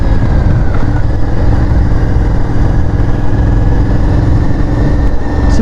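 An Aprilia Shiver 900 motorcycle runs through its stock exhaust, giving a loud, close, continuous engine drone that holds a steady, even tone throughout.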